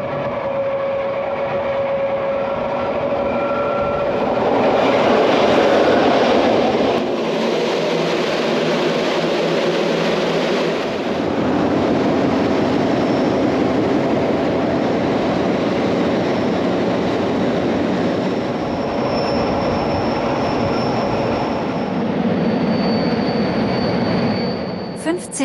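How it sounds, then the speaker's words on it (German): A Rhaetian Railway Ge 6/6 I Krokodil locomotive runs through a left curve approaching Filisur station, a loud continuous rumble of wheels and motors with faint squeals, accompanied by a narrating voice. "während sich der Zug in die Linkskurve legt, um gleich in die Endstation Filisur einzufahren"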